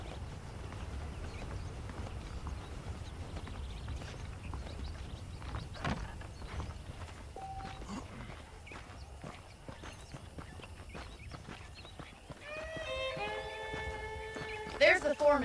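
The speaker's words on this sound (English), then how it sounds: "The horses are saddled up over here." Saddled horses walk along in the Western video game Red Dead Redemption, their hooves giving a soft, steady clip-clop under ambient game sound, and a brief whinny rises near the end.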